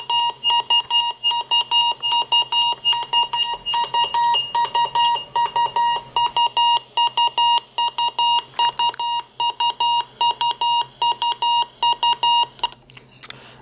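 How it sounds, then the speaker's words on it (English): A RadioShack 12-261 weather radio sounds its test alarm, a loud, rapid run of piercing electronic beeps that repeats steadily with only short breaks. No voices are heard. "That is the test alarm for statements, weekly tests, monthly tests, etc."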